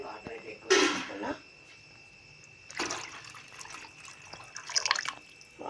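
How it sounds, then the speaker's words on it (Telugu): Water is poured into a pan of softened tomatoes for upma in several separate splashing bursts with quiet gaps between them. The pours are close and moderately loud. "టమాటాలు అయితే మగ్గినాయి, అందుకనే ఎసరు పోసేస్తున్నా"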